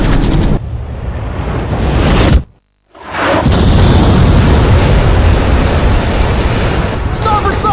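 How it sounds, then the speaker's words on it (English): Heavy missile impacts against a warship in the Ace Combat game, a roaring blast of noise that cuts out briefly, then surges back as a sustained rumbling wash of explosion and debris. "We've been hit by 2 sub-launch missiles!"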